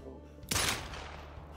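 A single hunting rifle shot in the game Call of the Wild: one sharp, loud crack that decays quickly into a fading echo over a quiet outdoor background.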